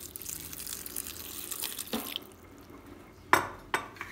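A little water is poured into a blender holding onions and green chilies, a soft splashing pour early on followed by a couple of sharp knocks against the jar, quiet overall and without talk.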